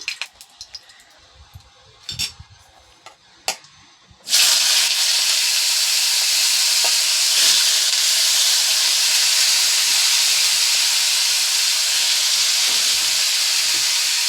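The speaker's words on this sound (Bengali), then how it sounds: "এটা আলু ভাজা করছি আর কি।" A few soft clinks and taps, then potatoes hit the pan with a sudden loud sizzling hiss that stays steady to the end.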